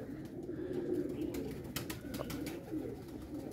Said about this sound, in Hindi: ये पूरा कबूतर है